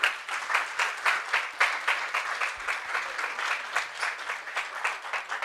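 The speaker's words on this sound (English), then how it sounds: "please give them a round of applause as they're walking up" Audience applause at a RIPE NCC SEE 6 meeting as the program committee walks onto the stage: dense, steady clapping from a large crowd, close and loud, pulsing slightly throughout with no talk.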